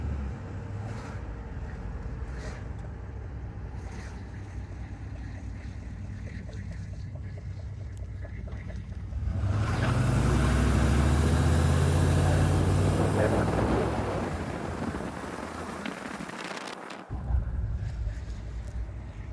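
A 1994 GMC Yukon two-door 4x4 with a 6.5L turbo diesel idles with a low steady rumble, then swells into a louder rev for several seconds before settling back, with brief talk nearby.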